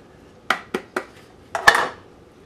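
Potatoes tossed with celery seed and bacon in a pan clatter against the metal in a few sharp knocks, then a longer scraping rattle. The sounds are close and distinct against a quiet background.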